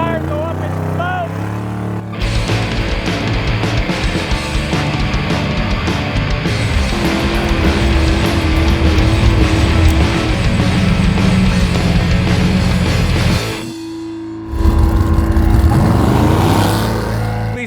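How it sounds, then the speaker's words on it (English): A V8-swapped Mazda RX-7 doing a tire burnout, its engine roaring loud and sustained at high revs with screeching, smoky wheelspin, a brief dip near the end before the roar returns at full strength. "These tires go up in smoke."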